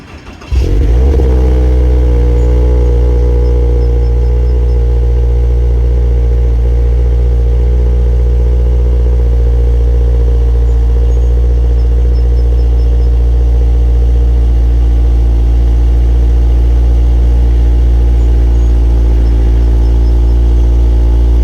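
A Toyota GR86 with a GR Performance exhaust cranks and fires on a cold start with a sharp burst, then settles into a loud, steady high idle that drones on evenly for a long stretch.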